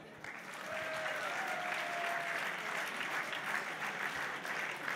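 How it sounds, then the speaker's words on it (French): An audience at a political party congress welcomes the Senate group president with warm applause, a dense even wash of clapping that swells within the first second and holds steady, slightly distant. "accueillir, avec un tonnerre d'applaudissements, notre président du groupe au Sénat"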